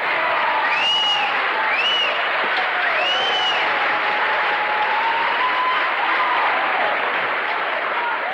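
Loud, rowdy audience applauds and cheers for Charles Bukowski at a poetry reading, a dense, steady wash of clapping that stays strong and close throughout, with a few whoops rising above it.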